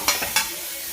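Bitter gourd (karela) frying in oil on a tawa gives a steady soft sizzle, with two brief louder stirring scrapes near the start.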